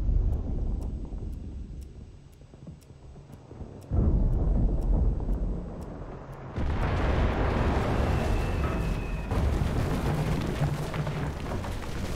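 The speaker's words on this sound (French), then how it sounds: "il faut s'allonger pour se protéger des explosions" Battlefield explosions from the Enlisted game's Normandy setting boom and roll in deep rumbling bursts, with two big blasts arriving a few seconds apart over a constant distant din of combat.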